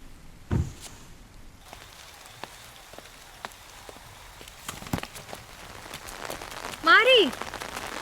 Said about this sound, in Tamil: மழை பெய்யுதுல்ல